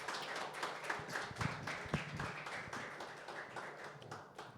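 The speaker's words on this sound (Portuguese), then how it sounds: "aplaudir os aniversariantes." A church congregation applauds the members celebrating birthdays during a worship service, a soft, distant patter of many hands that slowly fades with no talk over it.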